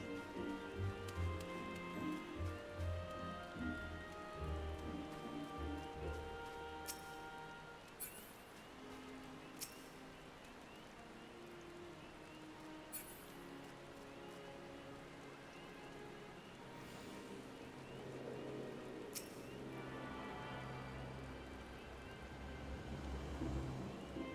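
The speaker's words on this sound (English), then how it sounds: "I'm enjoying the rain." Steady rain in the Final Fantasy XIV game world, a continuous soft patter at low level, with a few faint clicks and chimes of game sounds over it and no speech.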